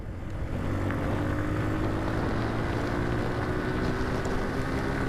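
A motorbike engine revving as the throttle opens during rain in Debidwar town, a steady loud drone with rising engine tones under rushing wind and rain noise, no talk.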